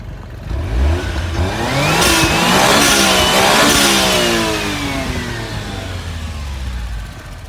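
A Toyota Celica GT-Four's 2-liter 3S four-cylinder engine revs up loudly and close via the throttle cable, rising through a long throaty swell and easing back down toward idle.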